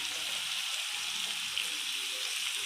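Ginger pieces and tamarind sauté in a pan with a steady, close sizzle and soft frying crackle that carries on evenly throughout without a break.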